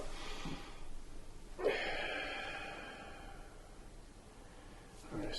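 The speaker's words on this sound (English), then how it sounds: "Now we can inhale up" A deep breath is drawn in during tai chi practice of Grasp the Bird's Tail: a soft, airy inhalation rises sharply and then tapers over a few seconds before fading into quiet room tone.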